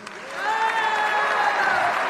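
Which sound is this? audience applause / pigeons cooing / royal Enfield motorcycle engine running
audience applause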